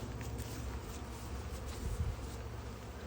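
Bees hum softly and continuously around a hive super at a truck tailgate outdoors, a faint, low buzzing drone with no talk.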